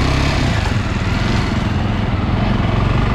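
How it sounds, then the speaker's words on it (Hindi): A Jawa 42 Bobber motorcycle engine running on an open three-lane road in India, a loud continuous low thumping drone with steady rhythmic pulsing, close and unbroken, with no talk. "तो जैसे कि अभी मैंने बाइक चालू कर दी है और मैं थोड़ा खुले रोड पे हूँ"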